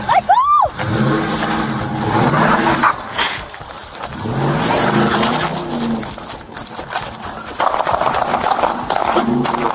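A car engine starting and the car pulling away during a roadside arrest, revving loudly under shouting voices and a struggle, with a sharp siren-like whoop at the start and a dog barking in the mix.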